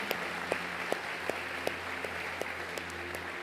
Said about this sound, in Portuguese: Quero convidar a igreja a dar uma salva de palmas a Jesus por isso.